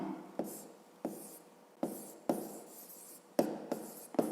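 A pen writes out a math solution by hand on paper, close and quiet, making about eight short scratchy strokes in irregular bursts with brief pauses between them.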